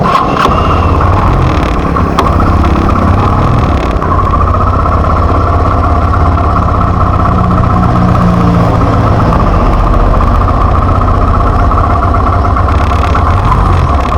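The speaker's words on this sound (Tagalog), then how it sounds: "Painitin ko muna ang aking makina." A tricycle's motor idles and warms up nearby in a steady, continuous low rumble that holds at the same loudness throughout, with no talking over it.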